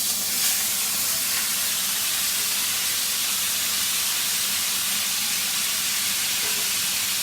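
London broil beef searing in a hot pan, a loud, continuous close hiss of sizzling fat and steam that stays even and unbroken from start to finish.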